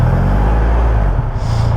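A 2021 Triumph Rocket 3 GT motorcycle engine rumbles close and loud, a deep gruff low drone that shifts and eases partway through as the clutch is let out, with no talking.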